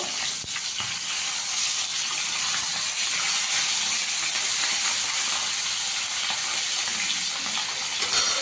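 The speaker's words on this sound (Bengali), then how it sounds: "এই পিঠটাও একটু লাল করে ভেজে নেব।" Small bacha fish frying in oil over a low gas flame after being turned over, a loud, steady, close hiss and sizzle with scattered pops and no talking.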